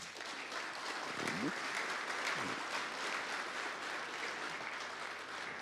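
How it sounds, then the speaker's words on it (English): Audience applause fills a hall at a sports broadcasting summit keynote, a steady, moderately distant ovation sustained throughout, with faint voices briefly beneath it. "So first, a round of applause for both of these gentlemen."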